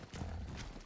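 A horse (Equus) in the video game Ark Survival Ascended, heard faintly as a brief snorting whinny with a few hoof clip-clops, short and quiet.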